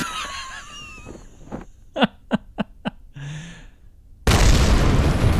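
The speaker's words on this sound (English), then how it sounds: "Bang goes all that fuel underneath us." A rocket's fuel tank blows up beneath the craft in Kerbal Space Program: after a few sharp pops, a sudden loud explosive blast erupts and holds as a broad, roaring burst to the end.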